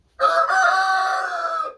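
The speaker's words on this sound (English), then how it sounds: "So I have 14 chickens in here, 1 rooster, 13 hens." A single rooster crow, loud and close, one sustained drawn-out call lasting under two seconds.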